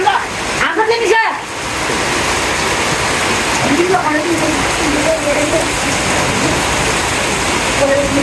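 Steady rain pours down in a continuous broadband hiss, close and fairly loud throughout, with people's voices faintly mixed in beneath the downpour.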